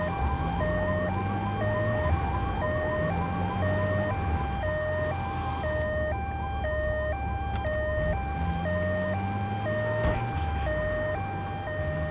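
Ambulance siren in GTA III wailing continuously, a loud stepped two-tone warble repeating steadily throughout, with car engine rumble and traffic noise underneath.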